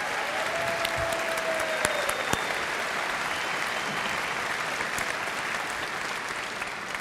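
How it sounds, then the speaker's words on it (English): Steady applause from a conference audience in a large hall in Birmingham, dense continuous clapping at an even level throughout, with a brief whistle-like tone near the start and no talk over it. "Can you just give her a round of applause"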